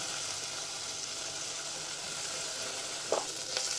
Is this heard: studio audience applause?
no